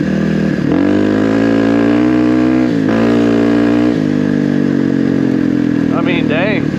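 Kawasaki KLX300R dirt bike fitted with an EJK fuel tuner, its single-cylinder engine revving loudly and crisply close by, with quick throttle blips rising and falling over several seconds.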